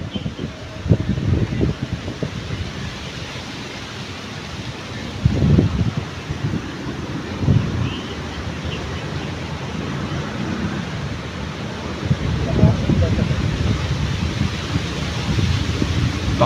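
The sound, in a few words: strong wind blowing into the microphone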